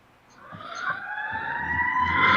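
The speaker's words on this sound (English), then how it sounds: "You hear those sirens?" A police siren wails and rises steadily, growing louder as it approaches, alone with no talking.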